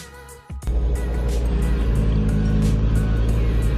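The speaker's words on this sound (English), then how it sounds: "My exhaust sounds so good." A car engine starts up and settles into a loud, steady, deep exhaust rumble that continues without a break.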